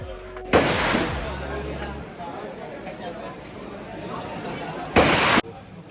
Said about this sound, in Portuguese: eu fiquei muito assustada com o barulho de tiros